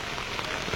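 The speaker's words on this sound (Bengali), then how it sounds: "ঝমঝমিয়ে বৃষ্টি যাকে বলে" Heavy rain pours down in a dense, steady broadband wash, loud and close throughout the brief moment, with no voices.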